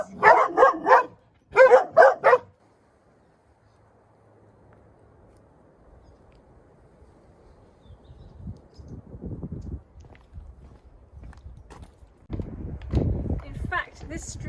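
Puppies beside a road give two quick bursts of sharp, high barking at the start; afterward comes a long quieter stretch with faint outdoor noise, and a person talks near the end.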